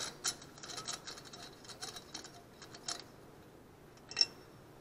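A ratchet turning a 12 mm deep socket on Honda GXV160 engine bolts gives faint, quick clicking runs in short spurts, with a brighter tick near the end in a quiet space.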